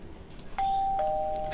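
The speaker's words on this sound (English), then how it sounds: "So you get a little doorbell." A Minecraft furniture-mod doorbell chiming, two clear, sustained electronic ding-dong tones following soft footsteps, close and moderately loud.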